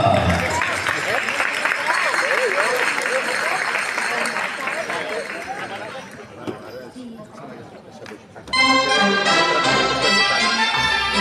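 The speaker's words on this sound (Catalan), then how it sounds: "L'aplaudiment per la colla de Parets del Vallès" A crowd at a gitanes dance festival applauds the Parets del Vallès troupe, dense clapping and chatter mixed with an announcer's voice, fading before lively music starts.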